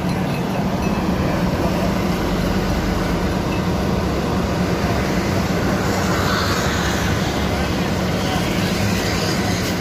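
A bus engine runs steadily after a restart during a roadside tire change, a continuous loud, rumbling drone close by with no clear change in pitch.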